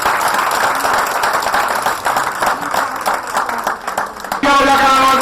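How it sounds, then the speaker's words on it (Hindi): Audience claps at a Jain religious gathering with a sermon and worship, a rough wash of applause heard for about four seconds before voices and music take over. "इनके सम्मान में जोरदार ताली होना चाहिए"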